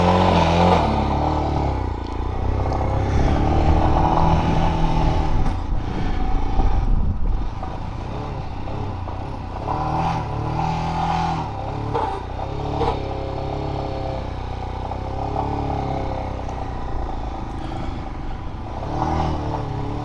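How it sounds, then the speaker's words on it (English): A bump-started motorcycle engine held at full throttle, a steady loud roar with rough clattering and wavering revs under occasional faint voices on a trip to Kolukkumalai Peak in Kerala. "I somehow bump started the bike and gave throttle all the way up to keep the engine running."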